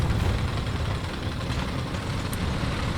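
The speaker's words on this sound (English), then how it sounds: "I can hear a Russian engine again." A Russian tank engine in the War Thunder video game, heard as a steady, dense, loud low rumble that drones on without a break.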